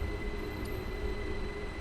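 A simulated train running on the Bernina Line in Train Sim World 4, heard as a steady, continuous rumble of running gear with faint tonal hums throughout, with no one talking.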